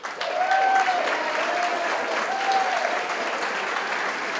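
An audience at a Senior LGBT Pride luncheon applauds to welcome a city councilor, sustained, dense clapping with cheers and a few whistles, loud and continuous across the room.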